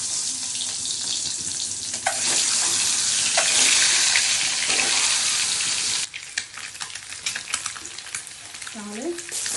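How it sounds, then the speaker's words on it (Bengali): Eggs fry in oil in a pan for a home-style Bengali egg kosha, giving a steady close sizzle with spattering and clatter from stirring, loudest midway, with no talk. "ফ্রাই করে নিচ্ছি।"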